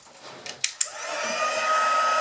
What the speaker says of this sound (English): my heat tool